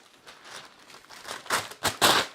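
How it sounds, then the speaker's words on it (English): Paper crumpled by hand in a kitchen, starting as soft crinkles and building to three loud, close crunching bursts toward the end, with no talking. "Just getting some paper."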